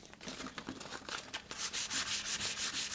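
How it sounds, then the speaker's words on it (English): Fine sandpaper worked over stainless steel classic car trim, rapid close abrasive strokes that start faint and lighter, then grow louder and denser toward the end, with no voices. "I'll go to some fine sandpaper and clean up what I've done even more"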